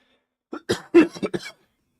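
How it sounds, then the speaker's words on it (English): A person coughs in a quick cluster of five or six rough, close bursts with short gaps between them, and no other sound around them. "Still got that damn cough that don't want to leave."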